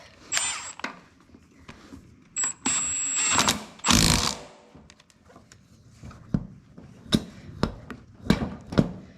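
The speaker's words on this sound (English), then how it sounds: "So we're just gonna leave it be, tighten this thing up." A part on a racing and mudding riding mower is tightened by hand, with sharp ratcheting clicks and metallic clanks in short bursts separated by quiet gaps.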